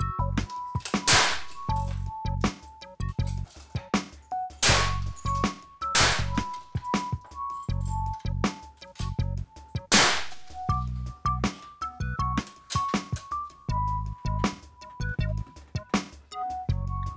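Rifle shots at a benchrest group-shooting championship in Iceland crack out sharply and repeatedly, some near and loud, others fainter, firing irregularly amid a steady mechanical hum.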